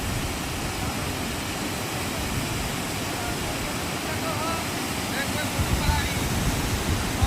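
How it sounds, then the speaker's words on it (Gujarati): Water of the Sabarmati river rushing past a bridge in the morning, a steady, loud, broadband roar that continues unbroken for the whole stretch, with a few slightly stronger surges near the end. "સાબરમતી નદીનું પાણી અત્યારે હાલમાં આટલું પાણી આવી રહ્યું છે"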